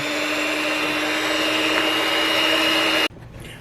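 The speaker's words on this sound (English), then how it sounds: "you can do a little mixer like I'm doing and just mix this together" A small electric mixer mixes two-ingredient yogurt pizza dough with a steady, loud whirring motor drone that runs evenly for about three seconds, then cuts off abruptly, leaving quiet room tone.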